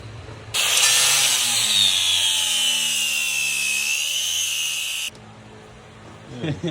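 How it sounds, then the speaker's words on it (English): A Sawzall reciprocating saw cuts while work is being done on a vehicle's engine. It gives a loud, steady, high buzzing whine for about four and a half seconds, then stops abruptly. "So I think I'm gonna just grab my Sawzall."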